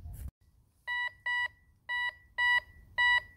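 Five short, evenly spaced electronic beeps from a HYTIREBY metal detector with a 10-inch coil as it detects a quarter, loud and close after a brief rustle, with no talk.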